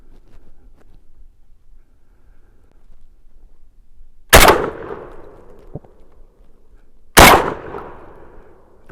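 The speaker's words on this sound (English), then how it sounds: "The recoil is manageable. It is a 12 gauge." Two loud blasts from a Panzer Arms BP12 Gen 2 12-gauge shotgun ring out outdoors a few seconds apart, each a sharp boom with a brief decaying echo, quiet in between.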